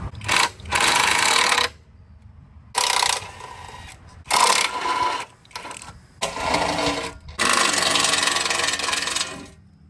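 Power tool drives bolts out of the skid plate on a Raptor 700 quad, running in repeated loud, whirring bursts of one to two seconds each, separated by short pauses.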